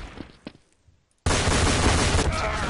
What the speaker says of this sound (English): I shot you. I have a long range shotgun.